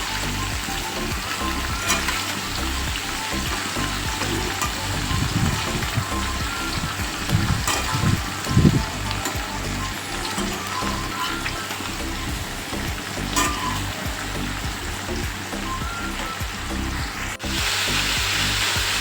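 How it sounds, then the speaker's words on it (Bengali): Cauliflower pieces fry in oil with salt and a little turmeric, giving a steady, dense sizzle that crackles evenly throughout with no talking. "ফুলকপিটাও কিন্তু আমি ভেজে নেব"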